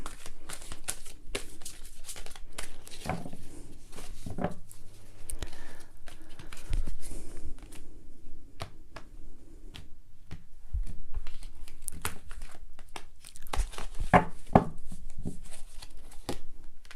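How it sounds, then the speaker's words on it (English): Playing cards being shuffled repeatedly during a tarot reading, with soft riffling and tapping bursts at close range and a quiet room behind them. "One more shuffle."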